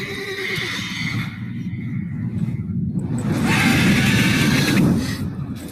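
A mare neighs in The Witcher 3 video game, a loud drawn-out whinny rising over a low rumbling backdrop, with hoof and movement noise beneath that swells toward the end.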